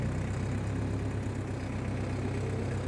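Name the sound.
tractor engine running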